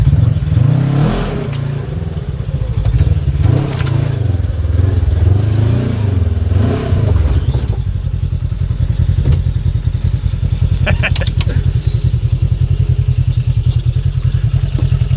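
A Polaris RZR 1000 side-by-side drives along with a loud, close engine drone, and a rhythmic clattering, knocking differential noise grows prominent in the second half.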